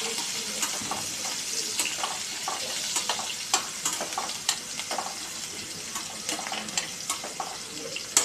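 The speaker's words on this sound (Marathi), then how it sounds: "लसूण चांगलं कलसल्यानंतर त्यात आपण कांदे टाक कांद्यांना थोडंसं हलवून घेऊया" Onions and garlic frying in a pan while being stirred with a utensil, a steady close sizzle broken by repeated light scraping clicks, alone with no talk, for a Khandeshi khichdi.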